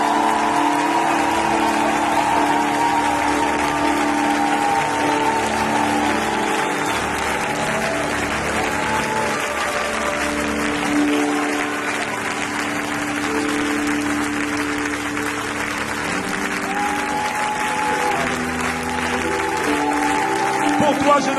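A church congregation applauds with dense, sustained clapping that carries through the whole stretch, with voices and music blended underneath.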